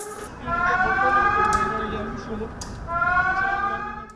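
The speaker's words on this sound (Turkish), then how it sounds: "Alarmlar çaldı." A wailing alarm siren at Ankara Esenboğa Airport during a plane crash fire-rescue drill sounds in two long, sustained bursts with a brief dip between them, close and fairly loud.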